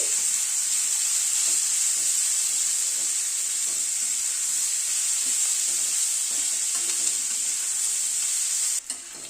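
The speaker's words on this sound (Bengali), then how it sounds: "পেঁয়াজটাকে একটুখানি ভেজে নিচ্ছি।" Chopped onion frying in a pan for a winter vegetable fish curry, a loud, steady hiss of hot oil with faint stirring clinks, close and unbroken until a brief pause near the end.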